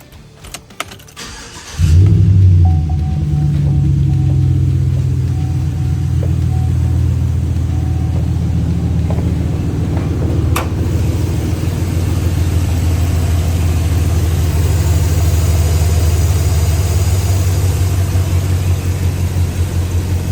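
A car engine cranks and catches on its first startup after new spark plugs and plug wires are installed, then settles into a steady, loud, close idle that runs on without any talk.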